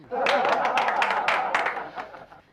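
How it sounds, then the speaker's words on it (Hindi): A burst of scattered hand clapping from several people, loud at first and gradually thinning out, with a few voices mixed in. "तालियां बजाओ"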